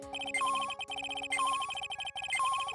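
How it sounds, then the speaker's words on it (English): Metal detector signal from an Ace Attorney video game: a quiet, rapidly repeating electronic beeping pattern with bright synthetic tones, cycling about three times with no talk over it. "That's the sound of the metal detector's signal bouncing off something metallic."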